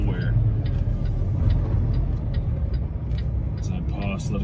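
Semi-trucks rumbling past in a highway construction zone, a steady loud engine and road roar filling the whole stretch with scattered clanks and rattles on top.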